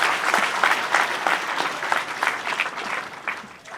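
An audience applauds at a religious discourse: dense, continuous clapping that holds steady and fairly loud for a few seconds, with no voices standing out above it.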